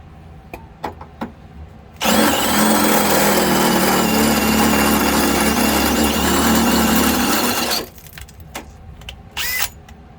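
A power drill with Harbor Freight Hercules bits whirs loudly and steadily for about six seconds, preceded and followed by clicks and handling noises, with a short burst at the end.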